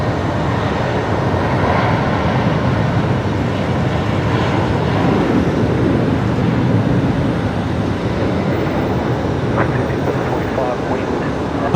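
A Boeing 737-700 and Embraer jets depart on parallel runways at Brisbane Airport, a loud, continuous broadband engine roar that swells slightly midway, with voices murmuring in the background.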